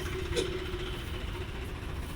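A Punjab-registered Arjun 605 DI tractor on new tyres idles nearby, giving a steady low diesel rumble with an even throb and no change in pace.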